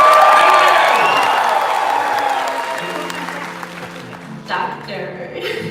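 An improv show audience at the Knott's Scary Farm 2019 announcement presentation bursts into loud, dense applause with some cheering and whoops, then gradually thins and fades as a voice begins speaking near the end.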